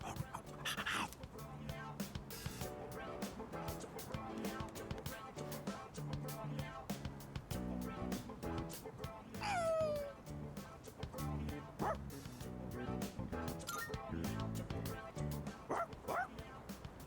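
In Persona 3 Reload, a dog barks, yips and whimpers in several short bursts over the game's music, with character voices also present.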